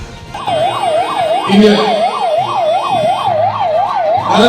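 An ambulance siren wails in a steady rising-and-falling cycle, loud and close, while it passes through a crowded election campaign gathering in Thoothukudi, with low crowd and engine rumble underneath.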